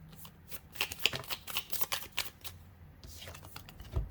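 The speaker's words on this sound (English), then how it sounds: "As I'm shuffling, the Mother of Wands falling out here." Tarot cards riffle and slap in quick, uneven bursts during a shuffle, close and fairly soft, pausing briefly before one last burst.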